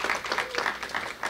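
Family-night audience at a CUNY aviation institute applauding a staff member named Geeta: steady, moderately quiet crowd clapping in a continuous patter, with a faint voice briefly audible underneath.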